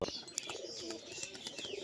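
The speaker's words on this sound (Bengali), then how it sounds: "এই হচ্ছে পায়রাগুলো সব।" Pigeons in a rooftop loft, including a yellow-eyed cock and a green-necked male, coo and chirp softly over a busy background hum, with short calls overlapping across the stretch.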